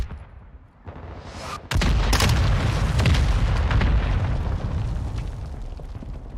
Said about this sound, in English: Hostile mortar strike